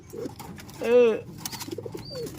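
Pigeons kept for racing, with one distinct, close coo near the middle of the clip. Soft shuffling and small noises fill the rest of the time.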